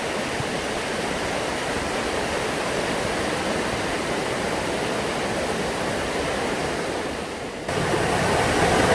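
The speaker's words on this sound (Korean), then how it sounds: "조금 더 위에 있는 이끼 폭포인데요." Heavy, steady rush of a full moss-covered waterfall in a mountain valley on Gariwangsan, loud and close, with the roar briefly dipping then swelling again near the end.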